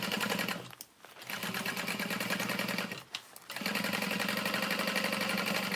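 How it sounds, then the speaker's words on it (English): A sewing machine backstitches through a tote bag lining at the slip pockets, giving a steady, loud rapid whir close up. Two brief pauses break the run as the stitching reverses direction. "I like to backstitch where I've added the slip pockets."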